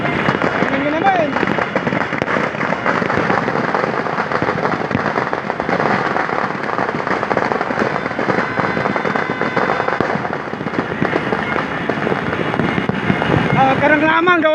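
New Year firecrackers and fireworks bursting continuously, a dense, loud barrage of crackling pops and bangs that runs the whole time, with voices talking faintly beneath.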